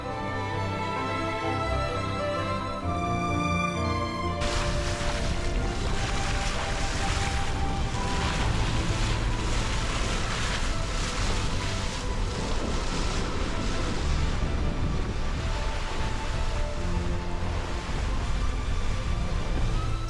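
A sailboat with a reefed mainsail and full headsail runs on a windy sea in the British Virgin Islands. Constant roaring wind and rushing waves fill the sound, after a few seconds of music at the start.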